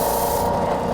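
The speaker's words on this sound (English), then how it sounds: "And so you can just come in and you can just sand it right off." Wood pressed against a Ridgid EB4424 tabletop belt sander gives a loud, steady abrasive rasp over the motor's hum, continuous and close.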